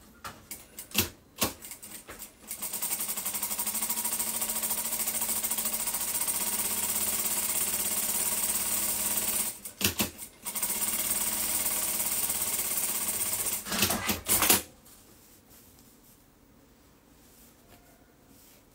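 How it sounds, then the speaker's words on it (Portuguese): Sewing machine stitching a folded fabric strip, running in a close, steady rapid whir in long bursts with short pauses and a quiet stretch at the end. "Que eu vou fazer uma costura."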